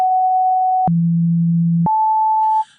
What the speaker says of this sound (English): that sample and hold is sampling the sine wave at the 1 second interval